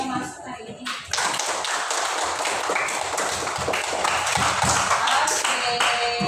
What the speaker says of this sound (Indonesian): Tepuk tangan untuk anak-anak yang masuk hari ini.